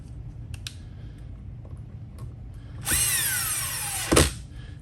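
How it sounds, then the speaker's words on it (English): Power drill driving screws into a Traxxas Bigfoot X-Maxx RC truck steering servo mount: a brief whining spin-up that winds down, then a short second burst, close by after light clicks and handling noise. "get your screws back in"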